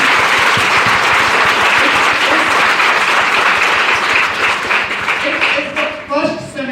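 Students applaud loudly at a seminar in Muzaffarpur, India, a dense steady burst of clapping that thins out over the last second or so as it dies down.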